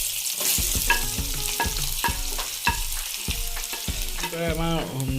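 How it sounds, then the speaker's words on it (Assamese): Onions frying in leftover oil in a pan while making an eel fish curry, with a continuous sizzle and repeated stirring scrapes, close and steady throughout. "এতিয়া ভজা যিখিনি তেল আছিলে সেইখিনিতে আমি এতিয়া পিঁয়াজখিনি দি দিম"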